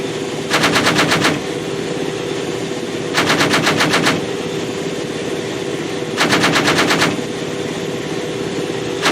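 Machine gun fire from guns mounted on a Humvee during a Ranger field training exercise: three loud, rapid bursts of automatic fire, each about a second long, separated by pauses.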